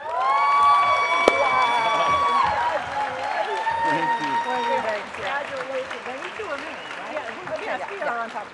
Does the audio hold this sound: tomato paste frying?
no